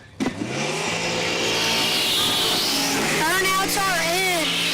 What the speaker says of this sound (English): Burnouts are in.